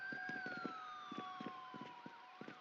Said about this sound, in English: I can hear 2 sirens right now.